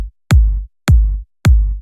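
Three deep, punchy kick drum hits from a stem pack, evenly spaced and loud, each with a sharp attack and a booming low tail, played alone.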